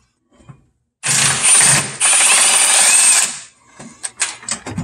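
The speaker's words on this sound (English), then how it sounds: "to take off the slave cylinder, we're going to back off these few bolts right here" Hand ratchet backing off the bolts on a car's hydraulic clutch slave cylinder: rapid pawl clicking in two close, loud bursts, then a few scattered clicks and taps.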